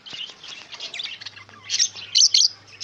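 Fischer's lovebirds and their chicks chirp in quick, close, high tweets and squeaks, growing louder toward the end, with a faint low hum underneath.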